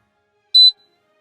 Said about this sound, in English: The smoke detector comes in and says, chirp.